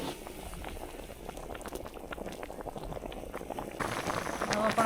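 Saag greens boil in water in a pot during village-style Punjabi cooking, giving a steady, close bubbling and hissing that grows louder and busier toward the end.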